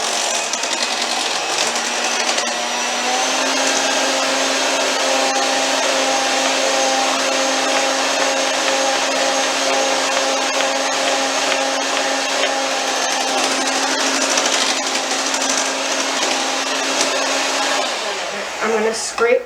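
Mashed potatoes being mixed in a pan give off a steady, loud whirring motor drone that runs unbroken for most of the clip and cuts out near the end.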